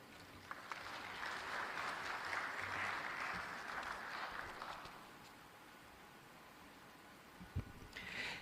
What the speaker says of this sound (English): Can we please extend another round of applause